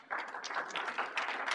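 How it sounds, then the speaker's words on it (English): Audience applause for a presenter at an evening mobile payments meetup, a steady wash of clapping from a small crowd lasting the whole moment, fairly even and moderately distant. "If we could give him a warm round of applause."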